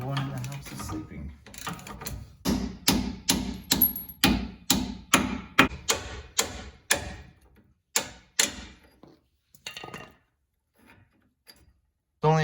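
A hammer strikes seized suspension bolts on a Chevrolet Silverado during a leveling kit install, about twenty sharp metallic blows in a loose rhythm at close range, then a few scattered hits and a pause; someone talks.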